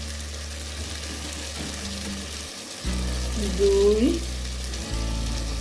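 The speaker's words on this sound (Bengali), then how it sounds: "সাদা তেল দিয়ে একটু ভেজে দিচ্ছি।" Chicken khichuri ingredients fry in white oil, a steady loud sizzle under a brief spoken word, with a stirring scrape and a louder burst of frying midway.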